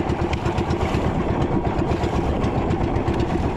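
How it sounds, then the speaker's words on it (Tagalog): A misfiring fishing boat engine chugs close by, its uneven, pulsing idle running continuously with no talk. "Palyado ating makina."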